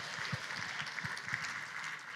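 Audience applause at a charity celebration event, steady broadband clapping throughout with a few low thumps, moderately distant and sustained.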